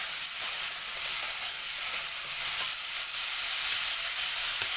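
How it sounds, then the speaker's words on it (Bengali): Potatoes with salt and turmeric fry in mustard oil while being stirred, producing a loud, even, hissing sizzle that stays close and unbroken, with no one speaking. "আলুগুলোকে ভাজা ভাজা করে নেড়ে নিচ্ছি।"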